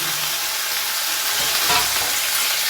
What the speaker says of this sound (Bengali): এই টমেটোটাই তেলের মধ্যে দিয়ে দিলাম